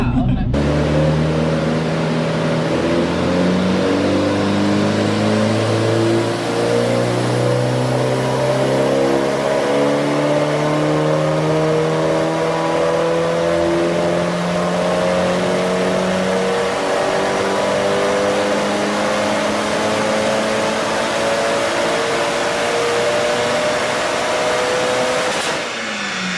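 A Mitsubishi Evo 6 turbo engine revs steadily on a dyno during a power run, loud and close, its pitch climbing in long sustained sweeps for nearly half a minute.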